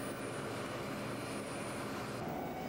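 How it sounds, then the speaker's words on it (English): A helicopter flying forward, its rotor and engine making a steady, continuous drone that holds even and unbroken throughout, with no voices. "This redirects lift and thrust, moving the helicopter forward."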